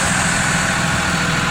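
A 2015 Blue Bird Vision school bus engine idles loudly and steadily, a close, rough diesel rumble with no break over the short stretch.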